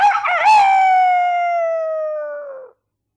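A single loud rooster crow, close and clear, opening with a rising call and then holding one long tone that fades out after about three seconds.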